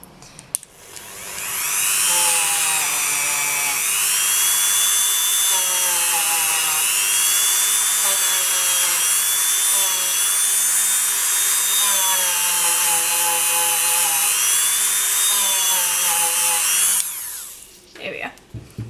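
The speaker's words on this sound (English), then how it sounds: "sometimes it does that when I am using the drill" A small high-pitched rotary drill whines steadily on a polymer clay leaf pendant, with slight pitch wavering as it bites, running close and loud for about fifteen seconds before stopping.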